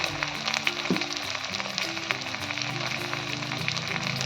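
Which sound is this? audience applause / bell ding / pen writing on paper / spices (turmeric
spices (turmeric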